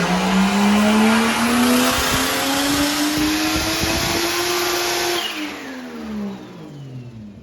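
2JZGTE engine in a Nissan S13 making a full-throttle dyno pull on 91 fuel, a loud close roar climbing steadily in pitch for about five seconds, then falling away as the throttle closes.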